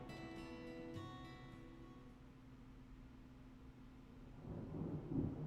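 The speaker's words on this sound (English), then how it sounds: "Thunder snow is coming." Thunder rolls through a stormy scene in the video game Deadly Premonition 2, a soft low rumble under sustained tonal music that fades, then swells again with a rougher crackling burst near the end; no voices.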